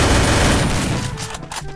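Dense, loud gunfire bursts in a shooter video game, rapid shots blending into a continuous roaring volley that eases slightly toward the end, with no talking.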